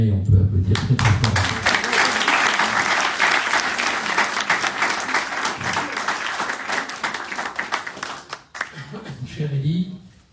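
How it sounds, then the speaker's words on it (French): An audience at a French gathering on fighting terrorism breaks into loud, sustained applause that rises and holds for several seconds, then fades as a voice begins speaking near the end. "on peut applaudir très très fort"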